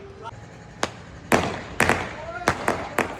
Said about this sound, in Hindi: लो दोस्तों फायर वर्क हो रहा है